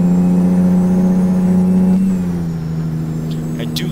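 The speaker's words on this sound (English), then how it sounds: "I do like this engine sound." A Kenworth T800 in American Truck Simulator drones with a loud, steady low diesel hum that sags slightly in pitch partway through, followed by faint brief clicks near the end.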